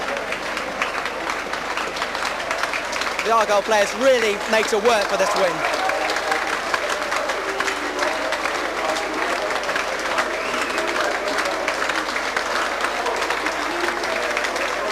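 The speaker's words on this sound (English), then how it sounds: "leave the field to a wonderful round of applause from the Argyle fans, fully appreciating this win" A big crowd of Plymouth Argyle supporters keeps up sustained applause as players leave the field after beating York City, broad and continuous in the stadium, with a commentator speaking over it.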